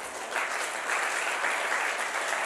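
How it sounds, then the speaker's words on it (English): Crowd at a church sermon claps hands together, a dense, even wash of applause filling the whole moment without speech. "Clap your hands."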